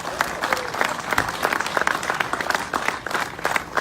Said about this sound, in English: I just want to give you all a big round of applause for everything you do